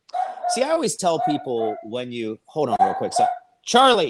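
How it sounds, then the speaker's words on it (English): A dog yips and whimpers in rising, whiny bursts close by, repeatedly breaking in over and around a man's ongoing speech. "good Lord, I'm sorry about my dog."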